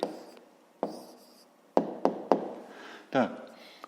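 A pen writing down an answer on paper, with faint scratchy strokes and several sharp taps between them, quiet and close, and a voice speaking in between.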